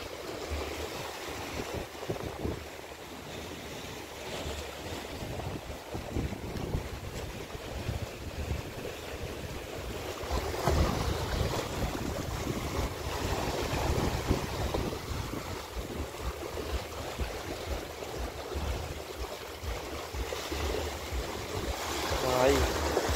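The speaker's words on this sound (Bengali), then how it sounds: "জল আস্তে আস্তে বাড়ছে। ঢেউয়ের চাপও বাড়ছে।" Ocean waves roll and break at Vagator Beach in Goa, a steady wash of surf under gusty wind noise on the microphone, with the surge growing louder past the midpoint.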